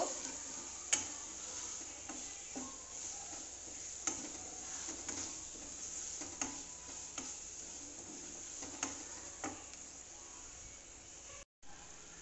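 Spices with chili powder and coriander powder frying in a pan, a soft continuous sizzle with scattered ticks and light scraping taps from stirring.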